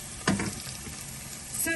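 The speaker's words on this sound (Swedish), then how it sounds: "Fräser här i stekpanna." Chopped onion and garlic frying in a frying pan for an aubergine risotto, giving a close, steady sizzle with a brief stirring clatter.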